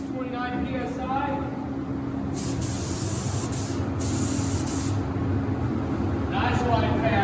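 An Anest Iwata W400 LV4 spray gun sprays at 29 PSI in a steady, close, loud hiss. Short bursts around the trigger pulls stand out from the continuous air rush, and no one speaks.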